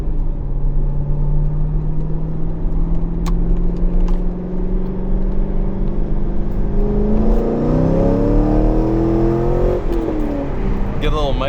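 A warmed-up C5 Corvette engine drones steadily from the cabin, then revs climb in a few rising pulls as the car accelerates along a winding stretch, loud and close throughout.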